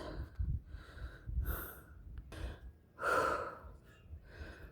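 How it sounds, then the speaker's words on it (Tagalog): A hiker panting hard after climbing uphill on a mountain trail at Mt. Pandaynganan Eco Park in Dinagat Province: close, heavy breaths in uneven bursts, several sharp gasping inhales standing out, with no talking. "Grabe ang hingal na guys."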